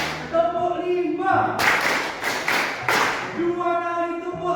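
In a classroom, a group claps in unison in a quick burst of five claps, preceded and followed by an adult voice speaking.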